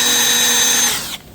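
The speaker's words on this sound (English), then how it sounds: "I will drill right in the corner" A power drill bores into white oak for a kitchen remodel, guided by a small jig at the corner of the board; a steady, loud high whine runs for about a second before abruptly cutting off.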